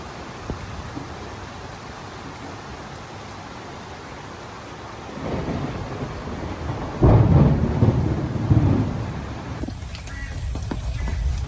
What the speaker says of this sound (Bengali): বৃষ্টি কমলো এখনও ঝিরঝিরি বৃষ্টি হইতেছে